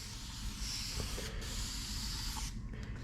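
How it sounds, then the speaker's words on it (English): A pump sprayer releases a soft continuous mist onto a car in a garage, a faint airy hiss that cuts off briefly and resumes. "So, it just sprays a little mist on there."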